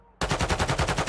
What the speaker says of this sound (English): I've got a revive pistol.